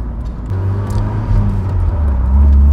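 Mercedes SLK 230 Kompressor roadster with a supercharged 2.3-litre four-cylinder engine pulling from low revs, a steady droning rumble rising smoothly in pitch and loudness as the car accelerates, with no voices.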